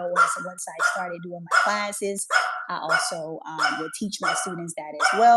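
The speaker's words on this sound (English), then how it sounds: "I apologize for the dog barking." A dog barks and yips repeatedly at home in short bursts, loud and close, under a person's continuous talk.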